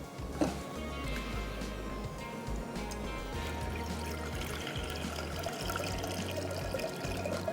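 Water pours steadily into a saucepan for boiling noodles in a home kitchen, a continuous splashing rush lasting about seven seconds with no talk over it.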